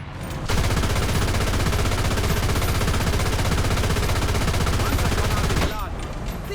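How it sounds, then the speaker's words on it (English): A Jagdpanther tank's hull machine gun in a World War II combat game fires one long, continuous, loud burst of rapid shots lasting several seconds before cutting off abruptly. "Because you also get a little machine gun."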